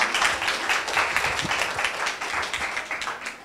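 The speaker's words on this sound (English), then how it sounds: "You can give a big round of applause if you want to." A crowd applauds at an exhibition opening in a cultural venue, dense steady clapping filling the whole stretch at moderate volume with no voices over it.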